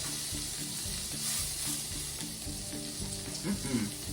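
A salmon fillet fries skin-side down in a pan after being flipped, giving a soft steady sizzle with light clatter and some low rumbling beneath it, fairly quiet, with no voices.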